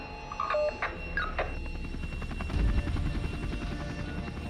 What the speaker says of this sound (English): The only way in and out fast is by chopper.